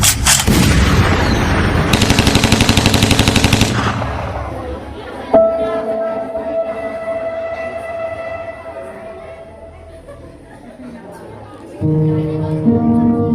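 A stage drama has a rapid burst of loud staged gunfire, followed by a ringing tone and quieter dramatic music, with theatrical voices nearby.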